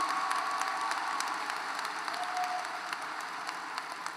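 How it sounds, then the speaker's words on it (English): A graduation audience at Northwest High School's 2023 ceremony claps steadily, a dense, even wash of applause from a large crowd in a hall, with a few scattered cheers above it, sustained throughout without any talking. "We can clap for all that, yes."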